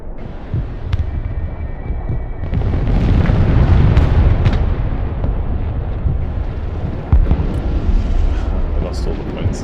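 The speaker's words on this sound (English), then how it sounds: "I could just kill them with the mortars" Mortar shells exploding in the military video game Broken Arrow: a continuous rolling barrage of heavy, rumbling booms that swells in the middle and keeps thudding to the end, loud and close.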